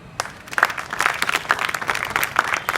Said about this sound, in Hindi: वेरी गुड, ताली बजाओ इनके लिए